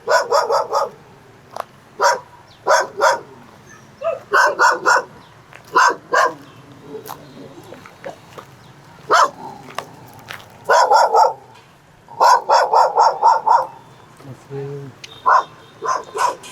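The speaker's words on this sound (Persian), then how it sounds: "پر سگ اینجا لامصب." Several dogs bark in repeated bursts on a street in Hanoi, Vietnam, loud and close with short gaps between volleys and occasional yips, over quiet background noise.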